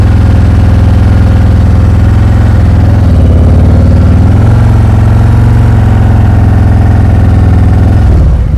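Motorcycle engine during slow-speed riding with the clutch feathered at the friction point, a loud, continuous low throbbing hum that shifts slightly in pitch midway, close and steady throughout.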